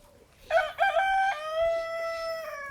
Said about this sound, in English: Oh my god, that's a rooster.